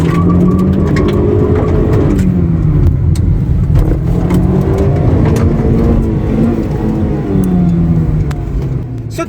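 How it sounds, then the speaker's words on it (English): A Honda car with a VTEC engine revs hard to about 4500 RPM and then launches, the engine note loud and close as it climbs and surges over several seconds. "revving this vehicle up to 4500 RPM, and suddenly it launches"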